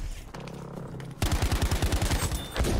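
A V2 rocket strike in Battlefield V lands as a sudden heavy blast after a low rumble, followed by a rapid run of booming, crackling detonations and gunfire-like bursts, loud and close, with no talk.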